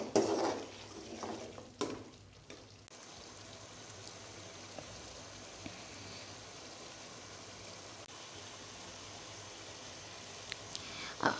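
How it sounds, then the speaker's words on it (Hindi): Chicken karahi sizzles in a pan with stirring: a few loud scraping clatters at the start, then a soft, steady frying hiss with occasional faint clinks, close and without talk. "अब हम चिकन को भून रहे हैं।"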